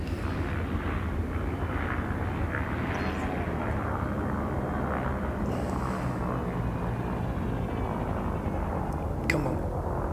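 A steady, full roar of a spaceship engine at max throttle in the Elite Dangerous space game, a broad rumbling drone with faint whooshes and a brief click near the end, no talking.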